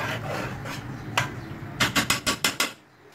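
A spoon scraping around a pot of Tamil Nadu style fish curry, with a few soft rubs followed by about six quick, close rasping strokes before it falls quiet.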